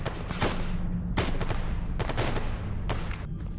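Rapid gunfire in the shooter game STALKER Anomaly, several loud bursts of shots in quick succession over a steady background rumble, with no talking.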